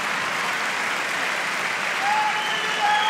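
A concert audience at a show in Basel applauds steadily, dense clapping and a few whistles filling the hall and swelling slightly toward the end.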